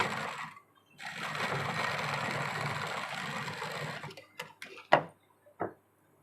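A sewing machine runs a steady, fast stitching hum on a blouse for about three seconds, close and clear, then stops, followed by a few clicks and knocks from handling the fabric and machine.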